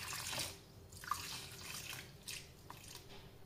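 Water poured into a bowl of homemade butter to wash it splashes and trickles faintly, with a few soft drips and gentle liquid sloshing, no voices present.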